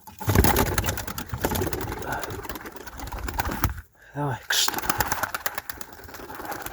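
Pigeons coo in soft low bursts near the listener, mixed with a steady mechanical hum and people talking over them, with a brief quiet gap partway through.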